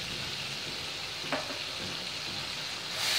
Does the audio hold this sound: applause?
no